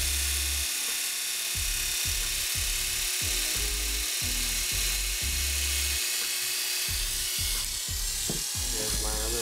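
An electric hair clipper fitted with a freshly oiled, sharpened blade runs with a steady high buzz, close and loud, while someone talks over it throughout.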